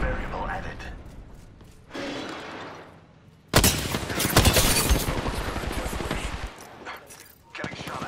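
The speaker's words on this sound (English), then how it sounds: "Getting shot at." Rapid automatic gunfire crackles in Apex Legends, a battle royale shooter, arriving in close bursts after a quieter opening, with talk from players running beneath the shooting.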